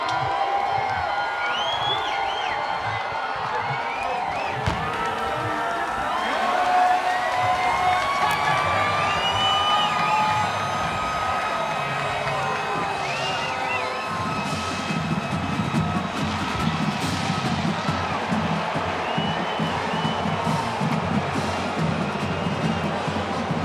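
A large crowd at a Missouri football stadium before a Georgia Bulldogs at Missouri Tigers college game: a sustained roar of cheering and whooping, with whistles and shouts rising over a constant wash of noise, and some talk underneath.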